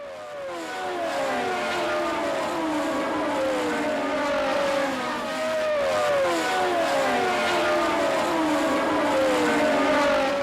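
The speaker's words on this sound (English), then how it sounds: "Halfway through the first lap, the order was Dupailler, Piquet, Jones, Lafitte, Andretti, Regazzoni and Scheckter and Villeneuve in the Ferraris" Formula One cars of the 1979 season race in a close pack, a continuous blend of high, whining engines rising and falling in pitch as they sweep past, moderately loud and distant with no talk.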